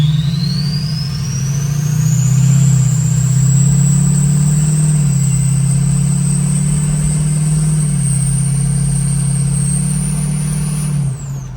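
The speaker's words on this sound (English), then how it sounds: "now it is officially time for the first startup of the truck" A Ford 6.0 diesel truck fitted with a KC stage 2 nine-blade turbo runs loud and close, with a steady low engine rumble under a rising, jet-like turbo whistle that climbs, holds, then drops off at the end.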